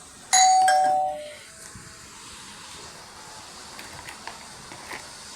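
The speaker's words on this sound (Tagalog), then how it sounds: "Someone at front door, doorbell ring." A front-door doorbell rings once with a bright chime that rings out for about a second, then fades into quiet room noise with faint scattered clicks.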